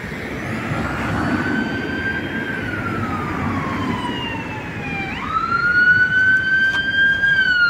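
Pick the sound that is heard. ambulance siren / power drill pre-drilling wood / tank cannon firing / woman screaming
ambulance siren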